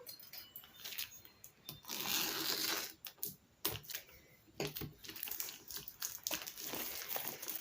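A box of craft beads being opened: close, quiet plastic clicks, rattles and crinkling packaging with a busier stretch of rustling in the middle, and no voices.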